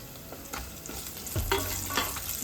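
Thin potato slices frying in hot oil in a pan for sabudana khichdi with curry leaves, with soft sizzling and a few stirring scrapes, close and steady.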